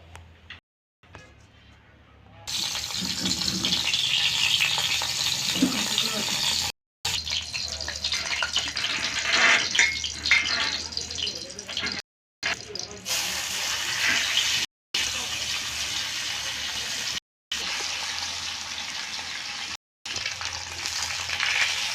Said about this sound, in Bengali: মাছটাকে আগে বেজে নেব